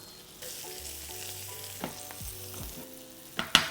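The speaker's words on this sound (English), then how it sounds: "Now I'm gonna add the butter. And this is gonna brown a little bit" Butter bubbles and sizzles softly in a hot pan with heart of palm as it browns, a low steady fry broken by a couple of sharper pops and clinks toward the end.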